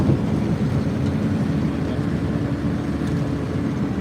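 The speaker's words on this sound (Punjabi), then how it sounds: "ਟਰੈਕਟਰ ਚੱਲ ਰਿਹਾ ਆਲੂ ਇਹ ਵੱਢਦੇ ਲੱਗਦੇ" A tractor engine runs steadily in a potato field, a continuous low mechanical rumble heard fairly close and loud throughout, with no voices.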